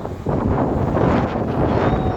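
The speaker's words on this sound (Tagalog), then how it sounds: "Lakas ng hangin, grabe." Strong wind blows outdoors in Abu Dhabi, buffeting the microphone with a loud, continuous rushing roar and no voices.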